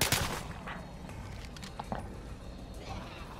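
Double-shot gunfire from a video game: a sharp burst at the start, then dense noisy firing and clattering that continues steadily throughout at moderate loudness.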